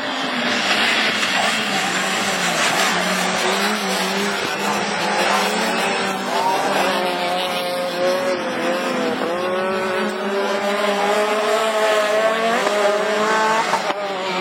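Rallycross race cars, among them a Citroën C4, roar past with wailing high-revving engines that rise and fall through gear changes, loud and close, with a hint of tire squeal and no talk.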